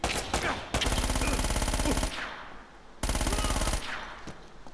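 Uzi submachine gun fire in Uncharted: Drake's Fortune, two long, loud automatic bursts of rapid rattling shots, each lasting over a second, separated by a brief pause with echoing tails.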